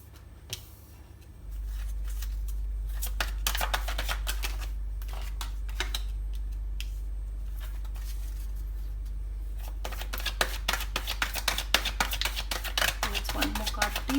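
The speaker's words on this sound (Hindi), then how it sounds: "सो 3 कार्ड्स निकालते हैं गाइज।" Tarot cards being shuffled, giving repeated soft papery riffles and flutters in bursts over a steady low hum, with a voice speaking at times.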